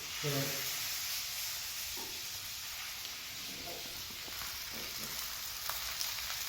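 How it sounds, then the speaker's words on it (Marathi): Dhapate flatbread frying in oil on a pan gives a steady, fairly quiet sizzle and hiss throughout, with a few faint scrapes and a short voice near the start. "असं तेल सोडायचं छान असं भाजायचं"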